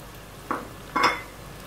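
Green chillies fry with softened onions in a pan, giving two short bursts of sizzle and stirring scrape over a quiet background hiss.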